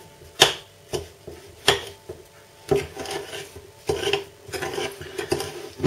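Softened butter being mixed with another ingredient in a bowl for chocolate chip muffins, giving irregular scraping and knocking strokes of a utensil against the bowl, with a few sharper clacks, close by and without talk.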